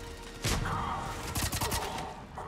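Bursts of automatic gunfire and heavy weapon blasts in the video game Mass Effect 3, Xbox 360 demo, crackling in loud volleys around 0.5 and 1.3 to 1.8 seconds over a busy combat background.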